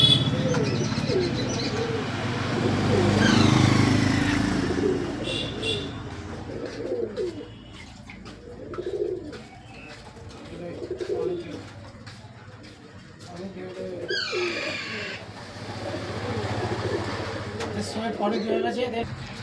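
Pigeons coo repeatedly inside a pigeon shop, soft rolling calls rising and falling in waves alongside a few chirps, with a person talking intermittently nearby.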